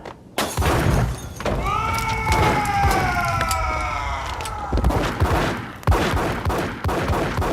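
Gunfire erupts in the Max Payne video game, loud close shots and impacts over a sustained rising musical tone, with more sharp bangs toward the end.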